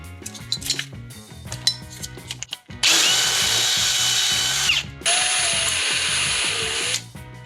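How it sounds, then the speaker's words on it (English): A power drill bores out holes in a billet aluminum frame for an Axial Deadbolt RC truck, with two sustained loud whining bursts after some clattering handling of parts. "so we're just gonna go ahead and drill that out"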